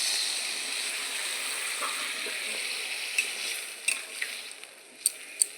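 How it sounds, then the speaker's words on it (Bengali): Water hits a pan of frying potato and soybean curry, setting off a steady bright sizzle that carries throughout, with a few sharper pops and spits toward the end and no talking. "এখন আমি জল দিয়ে দেবো"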